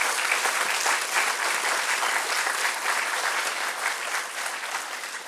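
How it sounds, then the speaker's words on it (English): A conference audience gives the speakers a warm round of applause, steady and full throughout, a broad wash of many hands clapping together from a large hall crowd. "why don't we give them a warm round of applause to warm them up"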